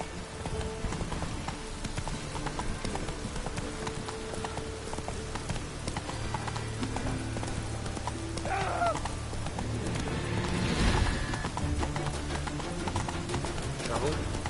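Roach the horse trotting in The Witcher 3, rhythmic hoofbeats under game music and ambience, with brief tonal sound effects in the middle.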